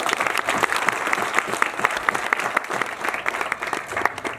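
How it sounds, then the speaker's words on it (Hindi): Steady audience applause at a street-naming ceremony in Krishna Vihar, dense hand claps carrying on evenly with no voices over them. "तो ऐसी टोली के लिए जोरदार ताली बजनी चाहिए एक बार"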